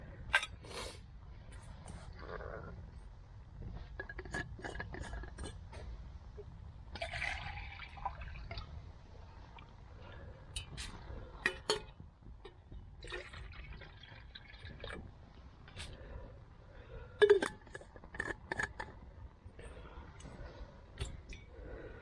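Water poured into a cooking pot outdoors in the woods beside a small camp fire, a steady trickle with scattered splashes and clinks over about twenty seconds, fairly quiet.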